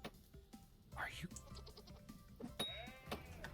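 A goat bleats in the survival game Vintage Story, a few short wavering cries standing out over a busy game soundscape and someone talking.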